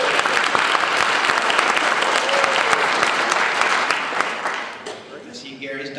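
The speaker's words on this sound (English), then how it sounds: "daughter was just clapping for him" A crowd at a Martin Luther King Jr. celebration breaks into lively, sustained applause that fades near the end as a voice begins speaking.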